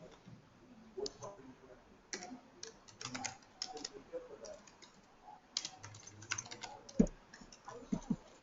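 Fingers tap out an email address on a computer keyboard in uneven bursts of quick, close key clicks separated by short pauses, fairly quiet, with no speech over it.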